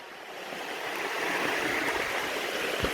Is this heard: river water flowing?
yes